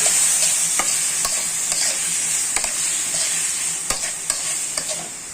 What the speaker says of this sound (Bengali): তারপরে ভালো করে আপনারা লাড়িয়ে নেবেন